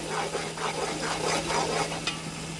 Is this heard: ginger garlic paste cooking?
yes